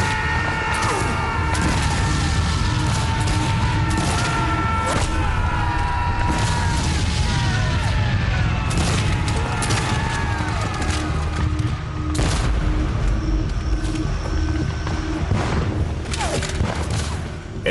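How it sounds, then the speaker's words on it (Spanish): Rifle and musket fire at a Civil War Gettysburg battle reenactment, with repeated loud volleys and scattered shots cracking over a continuous low rumble and distant shouting. "reciben más de 800 disparos de rifle"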